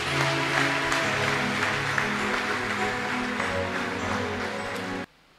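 A church congregation at a mass prayer gathering claps for Jesus in a thick, continuous burst of many hands over a droning background, holding steady for about five seconds before cutting off abruptly.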